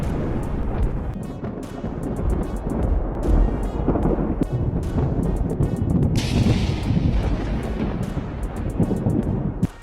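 Thunder from lightning during a volcanic eruption, a continuous loud deep rumble with repeated sharp cracks and booms over a roaring, gusting background, with no voices.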